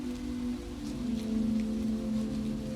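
Rain falling at night on city pavement, parked cars and the leaves of sidewalk trees, a soft, steady, even patter without distinct drops or pauses.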